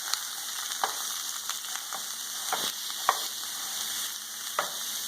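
Meat browns in a frying pan with a steady, fairly quiet sizzle. Scattered spatters and pops break through it, along with occasional scraping stirs of a utensil.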